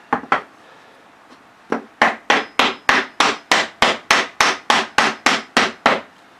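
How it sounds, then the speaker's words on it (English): A scrap piece of wood is hammered to seat a PVC cap onto a homemade arrow case. Two early knocks come first, then a steady run of about thirteen loud, sharp, evenly paced blows close by. "And just hammer it on there."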